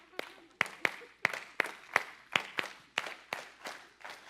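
A stand-up comedy audience claps in a slow, even rhythm, with about a dozen sharp, evenly spaced claps sounding together at moderate loudness.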